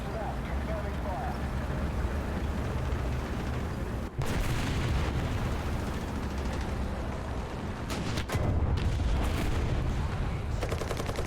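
Artillery fire in Heroes & Generals, a rumbling battlefield with two sharp heavy blasts several seconds apart, then a burst of rapid shots, all over continuous low engine-like drone; voices talk over it.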